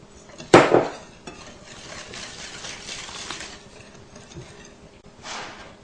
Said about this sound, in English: I'll whisk in 3 whole eggs